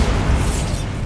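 The Bombarda blasting spell detonates in the Hogwarts Legacy game: one close, heavy explosive boom with a rumbling low end and a hissing high wash that lingers briefly before fading, no talking.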